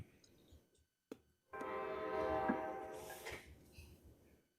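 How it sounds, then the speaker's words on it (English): A passing train sounds its horn in a long sustained blast, heard faintly from a distance over low rumble after a few brief knocks. "I'll wait for the train here."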